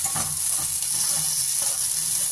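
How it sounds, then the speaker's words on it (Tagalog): Potatoes frying in a pan as the start of a corned beef dish, giving a steady, loud, unbroken sizzle and hiss close up, with no one speaking. "Fry ko muna yung potato."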